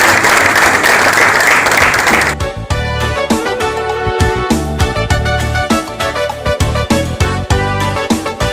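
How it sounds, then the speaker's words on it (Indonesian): Loud applause for students at a student organisation's inauguration and welcome event bursts out, then gives way to music with a driving beat. "tepuk tangan dulu untuk mahasiswa"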